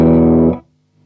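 A clean electric guitar chord rings out bright and dry, then stops abruptly with no lingering tail, leaving near silence.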